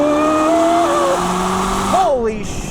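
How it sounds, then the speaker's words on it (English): Corvette ZR1 accelerating hard on a straightaway, a loud close engine note rising in pitch, then dropping sharply at a gear change before climbing again. "Let's give it a little more gas."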